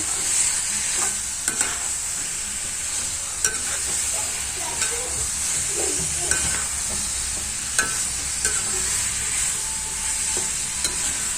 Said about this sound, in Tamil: எல்லா பக்கமும் நல்லா பரட்டி விட்டுக்கோங்க.